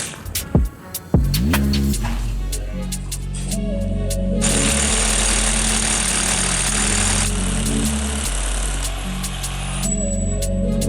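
A vehicle engine hums and throbs steadily from close range while driving, after a few short knocks at the start, with rough broadband noise swelling through the middle; no talking.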